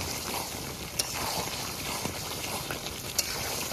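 Duck meat frying in oil already used for frying potatoes, giving a steady close crackling sizzle with a few sharp clicks of a spatula stirring through it.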